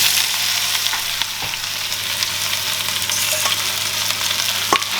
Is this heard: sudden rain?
no